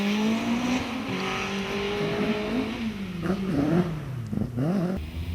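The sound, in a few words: Vauxhall-powered Caterham racing car at hillclimb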